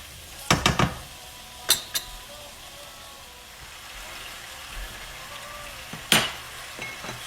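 Pumpkin cubes fry in oil for a Bengali kumro'r chokka, a soft, steady sizzle broken by a few sharp clinks of a utensil against the pan.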